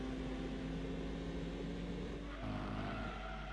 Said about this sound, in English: They've done their best to make it sound like a TVR, but it being a Gran Turismo game, the sound is totally wrong